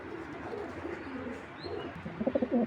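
Racer pigeons coo softly in a loft, a few low throaty coos near the end over a faint murmur of background noise.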